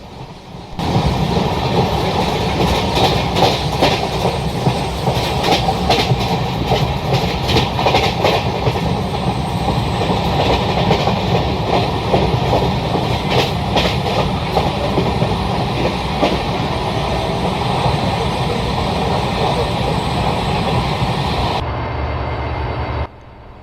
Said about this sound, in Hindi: सामने से कोई ट्रेन आ रही है, freight train WDG4D twin locomotive के साथ BTPN